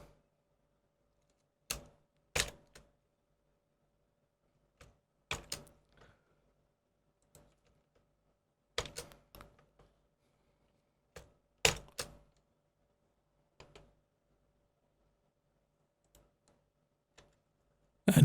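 Code being typed on a computer keyboard, sparse clusters of sharp key clicks separated by quiet pauses, close and alone.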